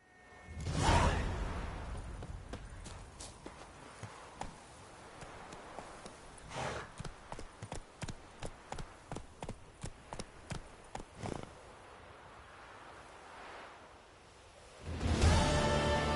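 Roach the horse's hooves clip-clop in The Witcher 3, a steady run of close, crisp hoofbeats in the middle stretch, framed by whooshing swells at the start and end.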